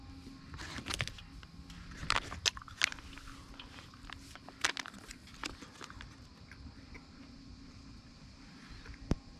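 Close, crunchy bites and chewing of a First Strike apple cinnamon energy bar from a military ration, a few sharp crunches over a quiet background of faint steady noise, with no talking.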